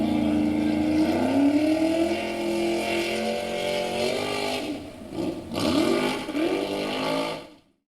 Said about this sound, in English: Team Turbo, with the lightest buggy in the whole thing, takes on Ragin' Ricky in that beautiful polished pickup truck